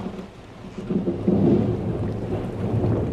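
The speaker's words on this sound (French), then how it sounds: "Pour eux, pas d'Alizés, juste une tempête tropicale." Tropical storm at sea aboard a boat, with continuous heavy rain and a deep rolling rumble of thunder building in the middle, loud and enveloping.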